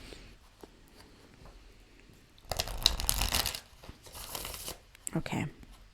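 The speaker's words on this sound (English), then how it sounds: "One more shuffle." Tarot cards are shuffled by hand in a few quick riffling bursts, a long crisp flurry followed by two shorter ones, close and clear after a quiet lead-in.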